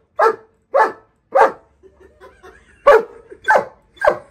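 A dog barks in sharp, loud, close bursts, three evenly spaced barks followed by a pause with soft whimpering sounds, then four more barks in quick succession.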